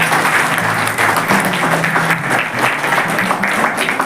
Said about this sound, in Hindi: हमारे मास्टर ट्रेनर्स के लिए एक ताली बजाइए।